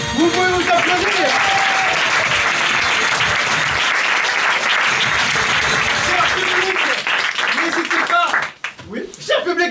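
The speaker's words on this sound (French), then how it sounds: "Merci à vous, public. Vous pouvez vous applaudir." A crowd at an improv comedy show in a theater applauds loudly and continuously, with cheers and a voice speaking over the clapping before it thins out near the end.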